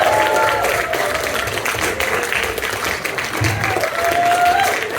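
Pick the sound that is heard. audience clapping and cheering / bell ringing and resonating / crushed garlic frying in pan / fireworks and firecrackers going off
audience clapping and cheering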